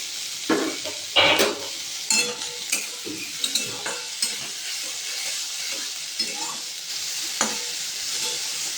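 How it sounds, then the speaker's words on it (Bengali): Capsicum and tomato are stir-fried with other vegetables. A steady sizzle runs underneath while a spatula knocks and scrapes the pan in repeated close taps. "ক্যাপসিকাম আর টমেটোটাও এর মধ্যে দিয়ে দেবো।"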